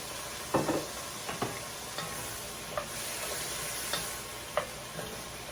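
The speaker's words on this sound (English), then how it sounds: "Scrape everything off the bottom, off the sides." A spoon scrapes and stirs the bottom of a pan of juices while pork tenderloin roasts, giving scattered clinks and scrapes over a soft, steady sizzle, close and fairly quiet.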